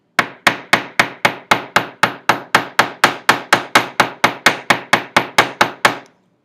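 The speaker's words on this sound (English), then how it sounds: "I could also use the chasing hammer that has a little bit of a smaller tip" A chasing hammer texturing a metal surface: about twenty sharp, ringing metallic strikes in a steady, even rhythm, loud and close, with a short ring after each blow and no talk.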